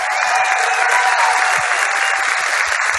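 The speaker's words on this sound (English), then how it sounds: "So please give them a round of applause." An audience claps loudly and steadily for the stage and tech crew at a Star Wars Celebration closing ceremony, a dense sustained wash of applause filling the hall.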